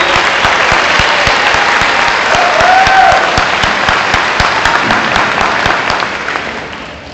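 A graduation audience at a 2016 summer ceremony for an alternative school program fills the hall with dense, steady applause, many hands clapping together before the sound gradually thins and fades toward the end.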